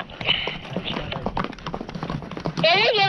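A herd of cows walks along a street, hooves clopping in a steady, close patter while people talk over them and a brief higher call rises near the end.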